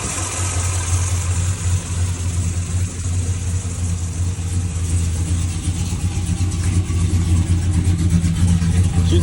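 A car engine idles steadily after a Walbro 525 fuel pump, hotwire kit and fuel pressure regulator install, running slightly rich with a constant low rumble, loud and close with no talking.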